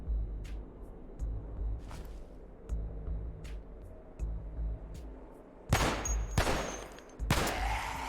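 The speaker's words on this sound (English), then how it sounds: "Really? 3 shots to kill this guy?" AR-15 rifle gunshots in the zombie survival game Cataclysm DDA: several sharp, loud cracks fire in quick succession near the end, after quieter ambient sounds and faint clicks.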